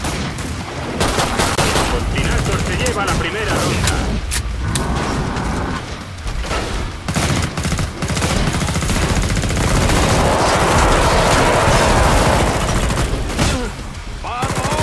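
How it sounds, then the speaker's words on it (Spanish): Heavy gunfire from the shooter video game Killing Floor 2 crackles in dense, loud bursts and rapid automatic volleys close up, with brief pauses and players talking excitedly between shots. "¡El viejales todavía puede disparar!"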